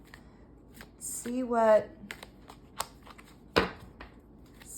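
Tarot cards get a riffle shuffle, a fluttering burst of rapid card flicks followed by a few soft taps and a sharp snap as the deck is squared, with a voice speaking briefly in between.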